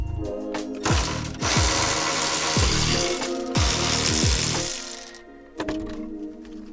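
A hand ratchet loosens a 12mm bolt on a car's rear seat backrest, giving several quick clicking strokes in a row, loud and close with no talking.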